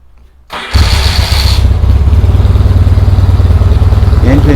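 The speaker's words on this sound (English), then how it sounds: "Just wanted to crank it up for everyone so they could hear it" A rebuilt 1972 Yamaha XS650 XS2 motorcycle engine cranks and catches, then settles into a steady, loud, close-up chugging idle.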